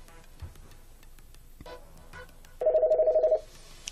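Office desk telephone of a small business phone system ringing with an incoming call, a short electronic warbling ring burst after some faint clicks and background noise.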